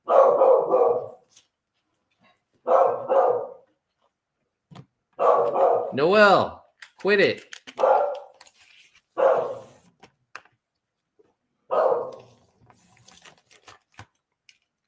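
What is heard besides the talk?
dog barking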